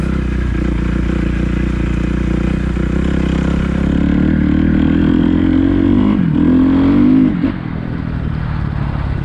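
A 2010 Kawasaki KX250F dirt bike, rebuilt after sitting ten years, roars loudly while being ridden, its engine note holding steady and then rising and falling with throttle changes before easing off near the end.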